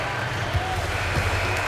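Steady arena crowd noise from NBA 2K23 fills the space as a dense, continuous roar of applause and cheering at a basketball game, with a broadcast voice faintly underneath.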